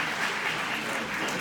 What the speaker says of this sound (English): We remind you again to hold your applause till the end